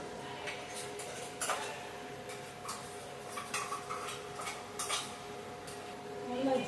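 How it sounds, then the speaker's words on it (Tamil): Buttermilk curry (mor kulambu) being stirred in a pot, with light clinks of a utensil and scattered taps against the metal alongside soft liquid movement, all fairly faint. "நல்லா ஜாரை கழுவி ஊற்றி கலக்கிச்சு"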